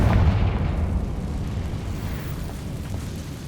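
A Confringo fire spell explodes in Hogwarts Legacy, giving a heavy booming blast at the start that rolls into a long rumbling decay, loud and close, with no talk over it.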